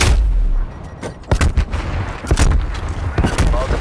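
Heavy rapid gunfire from a death machine weapon in a first-person shooter video game rattles loudly and near, in dense bursts with booming impacts, mixed with game effects.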